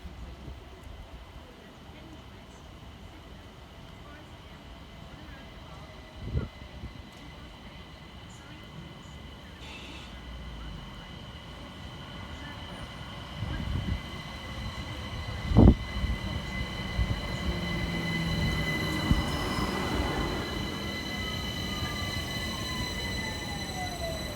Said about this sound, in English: Here comes 378 140, working the 1310 London Overground service from West Croydon through to Highbury and Islington.